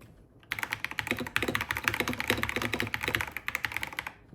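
Someone types on a Phantom S mechanical keyboard with large keys, a loud, close, dense run of clacky keystrokes that starts after a brief pause and continues steadily to the end.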